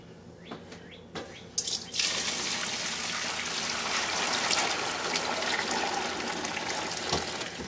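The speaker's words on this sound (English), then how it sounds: "we're going to pour some of our broth into this kettle" Chicken broth poured into a kettle for preserving, a steady gushing pour starting after a few light clunks and continuing as a loud, continuous splashing stream throughout.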